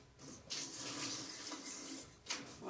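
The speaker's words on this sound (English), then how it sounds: "put in a little water. And just enough water to cover it." Water pours into a pot of diced potatoes in a home kitchen, a steady splashing rush with a couple of stronger surges, close and moderately loud with no talking.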